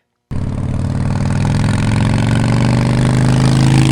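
A Harley-Davidson Evo motorcycle engine, parked for 13 years and probably without an aftermarket cam, starts suddenly after silence and settles into a loud, close, steady idle with a rapid rumbling pulse.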